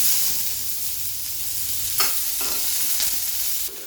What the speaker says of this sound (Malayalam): ഈ ഉള്ളി ഒരു ഗോൾഡൻ ബ്രൗൺ കളർ ആവുന്നത് വരെ വതക്കി കൊടുക്കാം